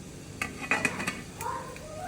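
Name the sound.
lid being put on a pot of idli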